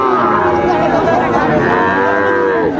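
Sahiwal cattle at a busy livestock market give a loud, sustained, close moo that fills the whole stretch over a constant crowd murmur.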